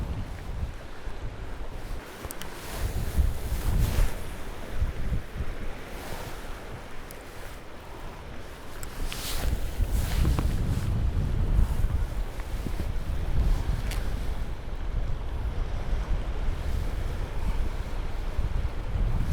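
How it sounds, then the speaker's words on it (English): A side wind blows across a walleye fishing boat on open water, rumbling steadily against the microphone with gusts that swell and fade, over the wash of waves and no talking. "A little bit of a side wind, so it makes it a little bit tougher"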